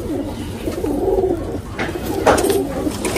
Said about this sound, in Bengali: pure white golden Payra